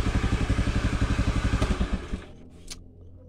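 A carbureted Honda Beat motorcycle engine runs nearby with a fast, even chugging pulse for about two seconds, then cuts out and falls quiet apart from a faint click.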